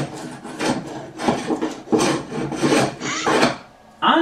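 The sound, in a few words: block plane (hand plane) shaving excess wood from cutting board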